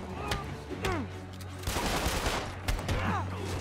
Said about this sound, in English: I like how he just shot his friend.